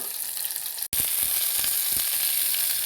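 Shallots sauté in a pan for brinjal chutney, a steady bright sizzle heard up close, briefly cut near the start, then resuming with light stirring clatters and no talk.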